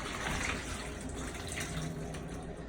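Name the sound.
water running from kitchen sink tap, draining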